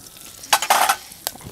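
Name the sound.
curry leaves crackling in hot oil while tempering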